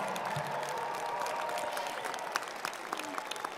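Graduates and guests at a medical school commencement ceremony applaud, a broad wash of clapping from a large audience, fairly distant and sustained.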